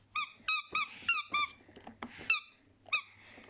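A squeaky toy whistle toots in a quick series of short, high-pitched bursts, close and fairly quiet, with brief pauses between.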